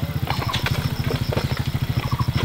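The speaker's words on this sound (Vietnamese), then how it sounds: "Phi xe máy từ trên xuống luôn đấy" A motorcycle rides down a slope, its engine chugging in a steady, rapid thumping rhythm close by, with some clattering over the top and no speech.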